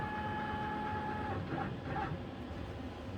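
CNC machine being manually jogged along its Z axis toward a workpiece surface while setting up to cut a neck, giving a steady whirring motor drone with faint tonal whine, close and continuous.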